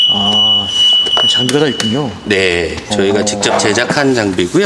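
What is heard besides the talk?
reversing alarm of a camper trailer during a light test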